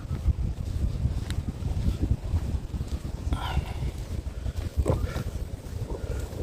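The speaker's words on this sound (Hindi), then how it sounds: "हवा चल रही है ठंडी ठंडी" Cold wind buffets the microphone outdoors at a wetland, a low gusty rumble rising and falling in irregular bursts, close and steady with no talking.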